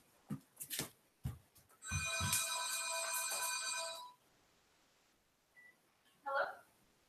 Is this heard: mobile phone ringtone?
yes